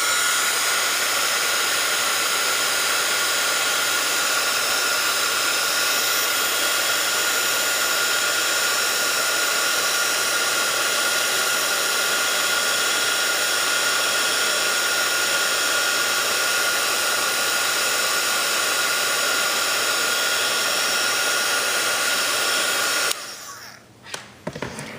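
A heat embossing tool blows hot air over a Christmas card in a loud, steady, close whirring roar, much like a hair dryer, that holds for about twenty-three seconds and then stops abruptly.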